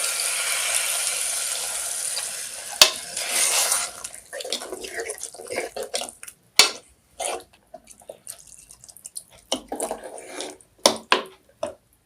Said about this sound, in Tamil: இப்போ கிரேவிக்கு தேவையான அளவுக்கு தண்ணி சேர்த்துக்கலாம்